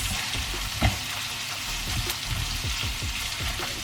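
Onions sautéing in a pan for pinakbet give a steady, close, dense sizzle with a few faint stirring clicks over the top and no talking.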